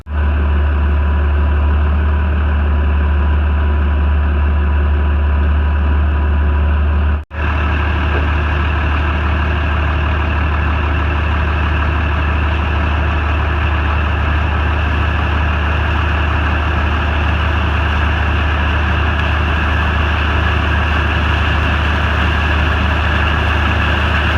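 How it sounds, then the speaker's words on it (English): Inside the cab of a combine harvester working a corn field, the engine runs as a loud, steady low drone with a constant mechanical hum throughout, broken only by a momentary dropout early on. "So right now we're in the combine"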